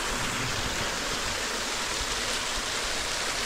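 Water flows steadily in a stream at a private resort, a constant broadband rush with no breaks, close and without voices.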